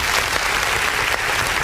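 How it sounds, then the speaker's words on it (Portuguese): Church congregation applauding loudly and steadily during an online Portuguese-language worship service, a dense wash of claps lasting the whole moment without a break. "Vamos dar uma salva de palmas bem forte para Jesus."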